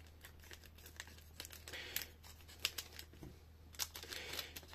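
Foil booster packs for the One Piece card game are crinkled and torn open close up, a quiet run of rapid crackling and ripping bursts with short pauses.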